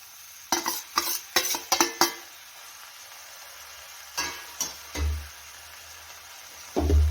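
Cooked mince being stirred into gram greens in a pan, with a few scraping spoon strokes and light clatters in short bursts separated by quiet pauses, close by.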